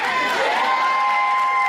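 A live crowd at a podcast event cheers and whoops in a loud, dense burst of mixed voices, with a steady high whistle-like tone running through it.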